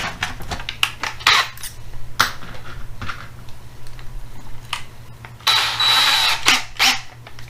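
A drill bores into an oiled metal casting in short, loud bursts, the longest near the end, mixed with close clicks and scraping handling noises, with no talking.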